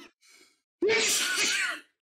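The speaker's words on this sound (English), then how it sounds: "My sneeze is always loud." One loud, close sneeze bursts out after a quick sharp intake of breath and trails off into a long breathy finish.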